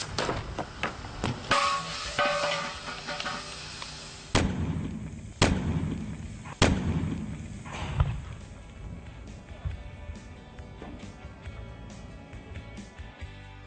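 A tire and wheel rim blow apart under heat and pressure: several loud sharp blasts, one after another, each trailing off in rumbling echoes, then fading to quieter debris and rumble.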